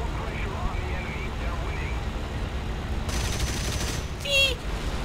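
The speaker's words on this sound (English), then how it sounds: "I'm going to cut him off with my cannons of doom" Aircraft cannons firing in War Thunder arcade air combat, rapid bursts over a steady engine drone, with a sharper burst near the end; no speech over the gunfire.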